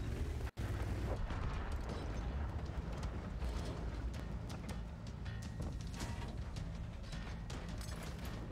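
Heavy artillery in a video game fires in a dense, continuous barrage of booming, crackling blasts over a deep rumble, distant and fairly faint, with one brief dropout near the start.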